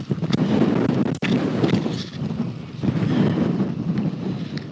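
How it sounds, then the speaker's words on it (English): Heavy wind buffeting the microphone outdoors on a cold riverbank while mudlarking, a constant low roar with gusty surges and a sharp thump partway through; no voices. "it's really windy and cold out here today"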